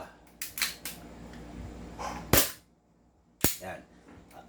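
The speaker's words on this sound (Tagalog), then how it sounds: "Ganito ang itsura ng putok ng single fire." Sharp, snappy shots from an airsoft gun fired singly, a couple of crisp pops with short pauses and small clicks between them.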